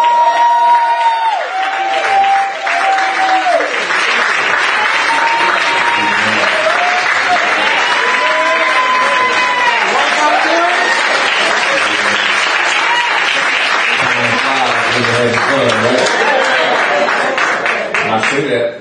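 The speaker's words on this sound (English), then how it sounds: "I appreciate the applause" Enthusiastic congregation applause during a Sunday morning worship service, loud and sustained with cheers and whoops rising from the crowd, while a voice talks and tones sound over the clapping.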